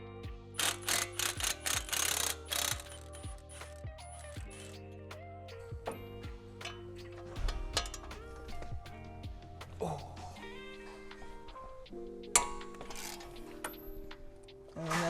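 A ratchet wrench removes the brake caliper bolts while a big brake kit is installed, giving bursts of quick clicking that slow into scattered ticks and metallic taps, moderately close in a quiet workshop.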